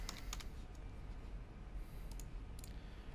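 Soft clicking keystrokes tap on a computer keyboard at close range, a few irregular presses over a constant low background hum.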